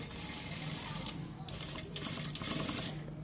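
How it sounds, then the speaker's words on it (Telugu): Sewing machine stitching a princess-cut blouse back, a fast steady mechanical whirr of needle strokes, close and continuous with a couple of brief pauses. "నేను ఇంకొక స్టిచ్ వేస్తాను అట్లా"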